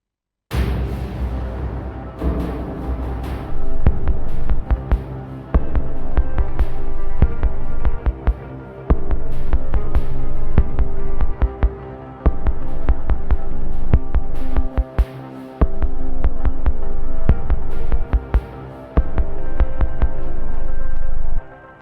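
A dry, punchy drum machine pattern with no reverb plays loudly with tight kicks and crisp hits in a steady repeating loop, briefly dropping out midway.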